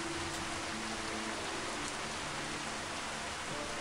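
Rain in the video game Gothic 2 gives a constant, dense hiss of falling drops, steady and fairly loud throughout, with no talk.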